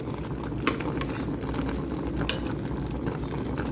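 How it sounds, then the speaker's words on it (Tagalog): Okra dish at a boil in a pot, a steady bubbling and churning simmer with soft popping and occasional sharp clinks, continuous and close with no talking. "Kumulo na guys."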